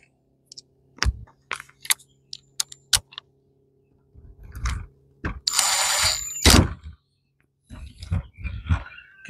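A small socket ratchet clicks in short bursts while working on the twin Nikki carburetor of a Briggs twin-cylinder engine on a John Deere L120 mower, with close, sharp ratcheting, metallic taps and brief handling noises between pauses.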